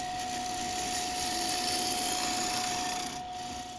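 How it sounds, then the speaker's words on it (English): A woodturning gouge makes pull cuts that true up a spinning thin maple bowl on a lathe: a steady, close, continuous scraping rasp over a constant motor whine, easing slightly near the end. "Instead, I'm going to use some pull cuts to start truing it up."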